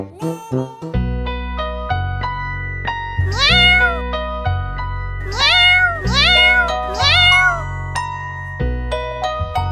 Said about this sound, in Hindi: ये बच्चे बार बार दरवाजे की तरफ देखकर म्याऊं म्याऊं क्यों कर रहे हैं?